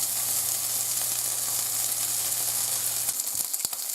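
Bacon sizzles in a white frying pan, a continuous bright hissing fry heard close up and loud, with a couple of faint knocks near the end.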